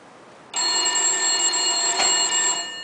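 An old telephone bell rings loudly and steadily after a short quiet start, one continuous metallic ring with a brief click partway through, heard alone without voices.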